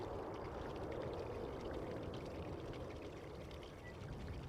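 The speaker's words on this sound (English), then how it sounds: "That's the sound of the reversers." Thrust reversers of a Kuwait Airways A330neo airliner landing at Amsterdam Schiphol, a steady broadband roar that holds loud and even throughout, rushing like heavy wind or pouring water.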